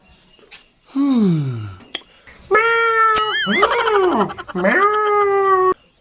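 A cat meows loudly and close up several times, long drawn-out wailing calls with rising and falling pitch, plus a couple of sharp clicks between them.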